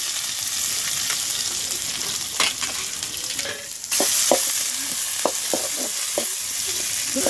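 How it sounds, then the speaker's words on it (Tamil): Onions browning in sesame oil with cinnamon and cloves, village style, for a pepper chicken fry: a loud continuous hiss broken by repeated scraping strokes of a stirring spoon. "வெங்காயம் நல்லா பொன்னிறமாக வதங்கட்டும்."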